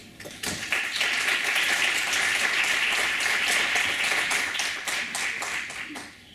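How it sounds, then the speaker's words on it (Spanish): Loud applause and clapping from an audience at a talk on technological tools for investigation, building quickly and holding steady before tapering off near the end. "quiero brindar un fortísimo aplauso para el gran Chris Oberg"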